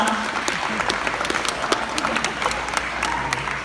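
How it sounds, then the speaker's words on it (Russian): Audience at a forum in Ukraine gives close, lively applause, a dense even clatter of many hands with some crowd noise mixed in throughout. "Дорогие друзья, ваши аплодисменты."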